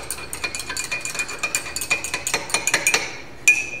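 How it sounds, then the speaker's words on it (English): A metal spoon clinks and taps rapidly against a container, a close run of bright rhythmic chinks with a louder clink near the end. "Spoon."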